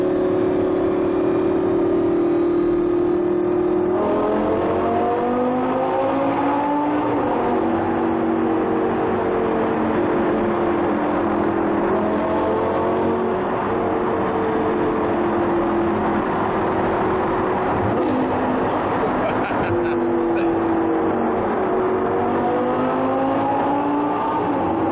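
A supercar, a Lamborghini or a Mercedes C63 AMG, fitted with a sports exhaust, revs loudly through repeated rising gear pulls and passes close by, with a sustained engine roar throughout and no talking.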